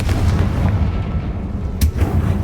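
Booming magical spell blasts in the video game Hogwarts Legacy, a dense rumbling explosion with a sharp crack near the end, loud and close with no talk.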